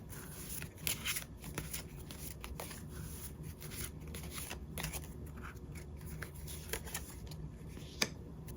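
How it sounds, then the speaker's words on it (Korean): Tarot cards shuffled by hand, soft crisp riffles and light slaps in irregular bursts, close and quiet, with no one speaking. "우리 여러분들을 위한 행운 좋은 카드 한 장 보면서 이야기 정리해 보도록 할게요"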